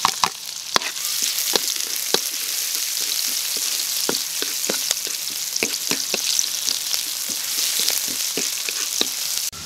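Chopped onion sizzles in hot oil after browned garlic, cooking for spicy adobo balut. A constant bright hiss is broken by frequent sharp crackles and pops, close and loud throughout.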